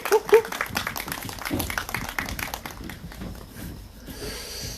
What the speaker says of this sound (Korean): 여러분 큰 박수로 맞이해주시면 고맙겠습니다